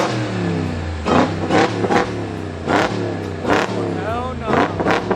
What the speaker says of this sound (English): He's in the truck revving it while on the tow truck.